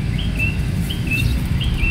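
Birds chirp outdoors in summer, a few short repeated high tweets in a loose rhythm over a steady low background rumble, moderately near, with no talk.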